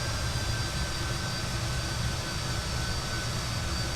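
A Fokker F28 jet taxis in Microsoft Flight Simulator, its engines giving a steady, continuous roar with a faint high whine, even and unbroken throughout.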